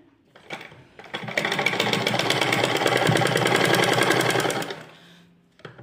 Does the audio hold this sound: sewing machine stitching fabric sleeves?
yes